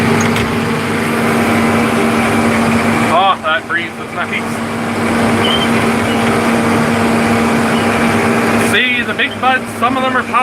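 A Big Bud 895 tractor's engine runs steadily in the field while seeding wheat, a loud, constant drone with a humming tone, as someone talks over it in two short bursts.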